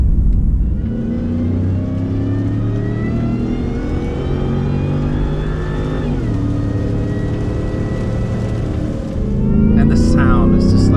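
A Shelby-tuned Ford F-150 pickup with a 750 hp engine, its supercharger whine rising and falling as it revs and accelerates, loud and close throughout with a steady drone, while a voice talks over it.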